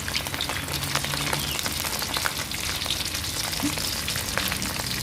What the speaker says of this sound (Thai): พอน้ำมันร้อนนะคะ ก็นำข้าวสวยลงไปทอดเลยค่ะ